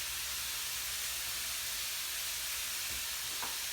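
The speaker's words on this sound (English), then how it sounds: "we're gonna go and dump this chicken straight down into our pan" Chicken, onions and peppers sizzle in a pan with a steady, loud broadband hiss that barely changes, plus a couple of faint knocks near the end.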